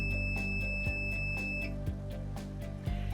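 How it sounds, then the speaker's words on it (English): A Series 5 dental chair gives a series of short, quiet electronic beeps while its number 1 position button is held, repeating in a steady pulse over a low mechanical hum. "I'm going to push in on the number 1 button and hold down until the chair beeps at me."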